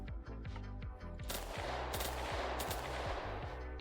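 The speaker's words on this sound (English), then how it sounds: "We have a new AK-12." An AK-12 fires in the Minecraft Handmade-Guns Overdrive 2 mod: a fast, even string of punchy shots sits over a low tonal background, with the rapid fire taking over after the first second.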